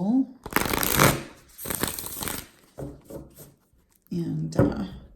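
A deck of large tarot cards is shuffled by hand in several bursts, crisp riffling and sliding card noises separated by short pauses, close to the microphone, with someone speaking between them.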